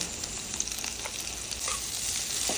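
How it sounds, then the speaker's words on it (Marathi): Okra fries in a spoonful of oil in a kadhai (wok), producing a steady, close hiss and sizzle with light stirring movements, no talking. "आता आपण त्याच कढईमध्ये एक चमचा तेल घालून भेंडी भाजून घेऊया"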